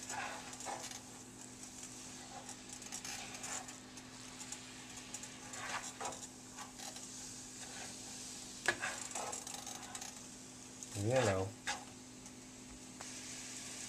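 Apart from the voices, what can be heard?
chili sizzling in the pan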